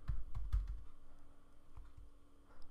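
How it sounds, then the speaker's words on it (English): Someone types a date into an Excel spreadsheet on a computer keyboard, producing a brief run of soft, close key taps in an irregular rhythm, with a few clustered strokes and then quieter pauses. "I'm going to type out the full date"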